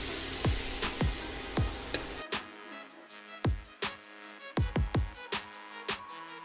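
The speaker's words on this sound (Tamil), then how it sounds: "தக்காளி கொஞ்சம் வதங்கி இருக்குதுங்க." Tomatoes sauté in a pan for an egg masala, with a soft sizzle at first, then a series of sharp, irregular utensil taps and scrapes against the pan as they are stirred.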